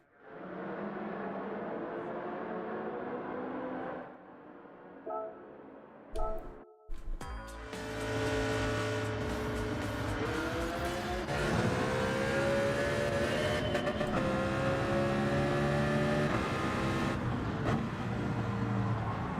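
Mercedes CLK race car on medium tyres in Gran Turismo 7, its engine droning steadily, then a brief break with clicks before it revs hard and pulls through sweeping bends, pitch rising and falling across upshifts, loud and close throughout.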